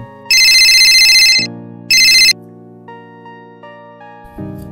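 A mobile phone ringtone rings loudly nearby: two bright electronic bursts, the first longer than the second, followed by a softer melodic tone sequence.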